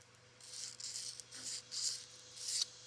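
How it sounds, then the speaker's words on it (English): Small flat file rubbing back and forth across a metal pawl pin on a VV-XI, giving soft, close raspy strokes in a few short, uneven bursts over a quiet background hum. "We just switch files to a flat file, a little baby flat file."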